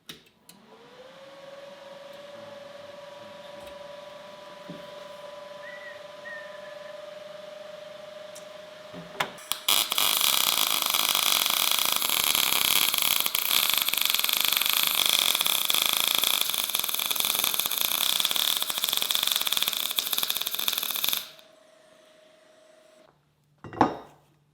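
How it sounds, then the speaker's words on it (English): An all-metal spiked club being welded, with a steady loud crackling hiss that runs for about twelve seconds after a quiet hum, then cuts off abruptly. "let's get this welded up"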